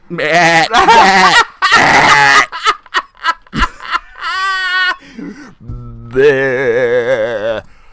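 Loud, wavering bleats and guttural wails from wolves in several bursts with short pauses, sounding like goats.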